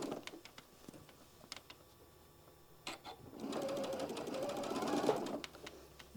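A sewing machine stitches a drawstring in short bursts, quiet taps and clicks giving way to a louder rapid whirring run near the end, close by and with no speech.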